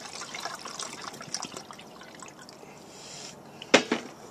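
Water from a Nalgene bottle is poured to fill a container for making coffee, a soft trickling that builds to a brief louder splash near the end, no speech.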